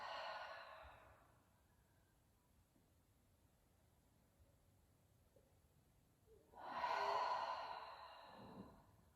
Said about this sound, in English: Exhaling it all out.